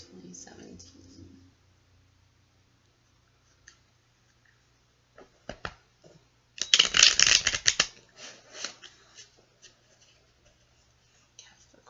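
Tarot cards are shuffled close by in a quiet room during a Capricorn reading, a dense riffling burst of a second or so with sparse soft clicks and faint taps around it.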